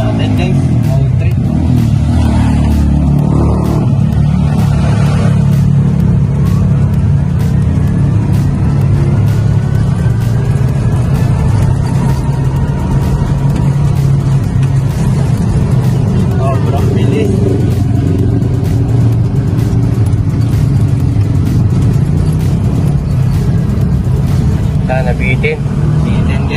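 A Kuda Lion four-wheel e-bike runs at top speed in mode 3, giving a steady, loud whir and road rush close by, with people talking over it.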